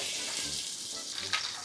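Chopped onions frying in oil and ghee for biryani give a steady, broad hiss of sizzling, close and moderately loud, with a faint clink or stir near the end and no talking.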